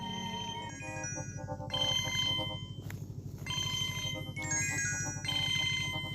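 A phone nearby plays a loud melodic ringtone continuously over a steady low buzzing pulse, the tune repeating in bursts with no voices.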